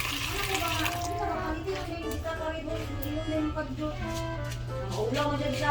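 Water runs from a sink tap in a newly fitted home, a soft, continuous rush beneath people chatting and a low steady hum.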